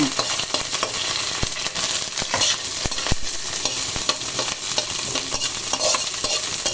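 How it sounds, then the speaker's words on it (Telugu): Green chillies and onions fry in a pan of hot oil, making a continuous loud sizzle broken by frequent scraping clicks of stirring, close up and without talk. "ఇప్పుడు మనము ఉల్లిపాయలు కూడా వేసి బాగా వేగనిద్దాము"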